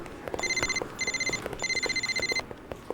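A telephone rings close by in three quick trilling bursts, with a brief gap between each burst.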